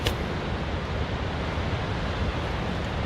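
Wind roars around a tent during a rain storm, a dense, continuous broadband rush with no breaks, loud and close against the fabric.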